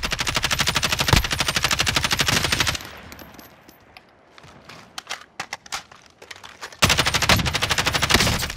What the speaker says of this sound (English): Getting shot from up the hill.